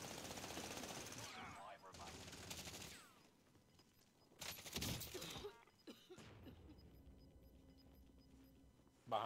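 Rapid bursts of video game gunfire rattle in uneven clusters, one louder volley standing out partway through, mixed with quieter game noise and what sounds like players talking faintly.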